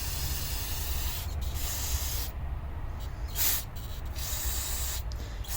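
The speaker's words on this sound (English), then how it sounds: "We can take a little bit of carb cleaner too, facing it downward" Carb cleaner sprays onto a Yamaha Raptor carburetor in a long, steady, close hiss, broken only by a few brief interruptions.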